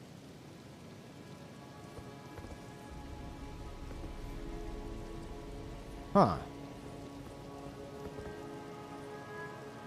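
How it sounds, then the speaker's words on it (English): Steady rain patters on surfaces after a boss fight in the video game Elden Ring, a soft continuous wash with one brief louder burst partway through and a short spoken interjection. "I love that it starts raining after the fight."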